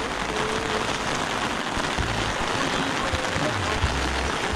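Steady rain falls beside a stream, a dense continuous hiss of drops on water and surfaces that stays close and even from start to finish, with no voices.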